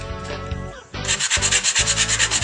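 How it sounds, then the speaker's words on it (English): Hand sanding on the wooden rear deck of a small crabbing skiff, first a longer scrape, then quick rhythmic back-and-forth rasping strokes close to the microphone, with no talk. "More sanding on the rear deck this time."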